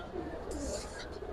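Pricey pigeons cooing in a loft, a soft low coo under faint background noise over a brief moment.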